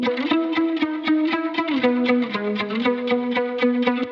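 Clean, plucky electric guitar played through a clean amp on its second channel with a scooped tone, picking a steady rhythmic pattern of short notes and chords with slight chorus-like shimmer, close and upfront with no voices.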